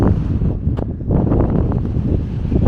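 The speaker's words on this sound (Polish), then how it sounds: "Nie wiem, czy mnie słychać, bo jest wiatr" Strong wind buffets the microphone on the white cliffs of Normandy, producing a continuous low rumbling roar with gusty fluctuations throughout, close and loud.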